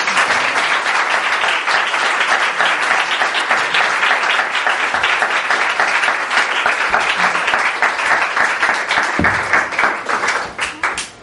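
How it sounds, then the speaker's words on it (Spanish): An audience at a seminar on childhood and neoliberal education applauds the presenters in a long, steady, loud round of clapping that thins out near the end. "agradecemos por última vez con un aplauso a los compañeros"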